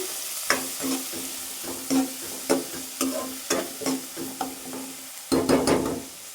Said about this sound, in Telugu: ఫ్రై అవ్వాలండి ఇలానే